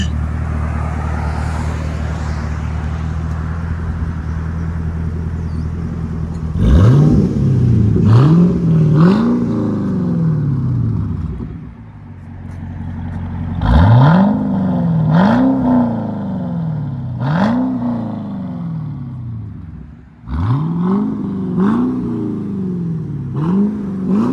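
A straight-piped Cadillac CTS-V idles with a loud, raspy low drone, then is revved hard in three rounds of quick blips, each with sharp rising and falling howls, close and loud throughout.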